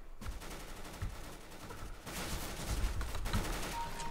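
Rapid gunfire from the video game CS:GO, with bursts of automatic shots and scattered single reports that grow denser and louder in the second half, with no voices.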